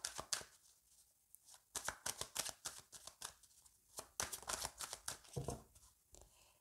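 Tarot cards being cut and shuffled by hand in a series of crisp riffling bursts and soft slaps, close and fairly loud, with short pauses between rounds and no talking.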